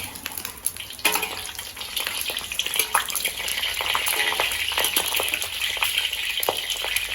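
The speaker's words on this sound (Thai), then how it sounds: "ตั้งน้ำมันให้ร้อนก่อน เดี๋ยวเรามาทอดไข่ดาว" Hot oil sizzles and crackles steadily around a frying egg, with scattered pops and spits throughout and a scrape of a utensil in the pan.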